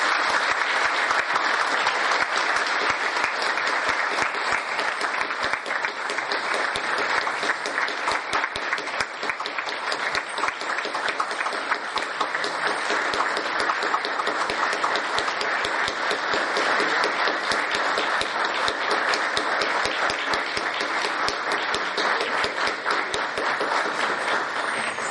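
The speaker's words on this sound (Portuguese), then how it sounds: "Senhoras e senhores, estes aplausos refletem" Sustained audience applause closing a law congress, the Paraná administrative law congress, dense and even clapping from a large crowd that holds steady for the full stretch without talk.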